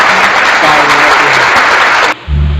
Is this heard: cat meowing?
no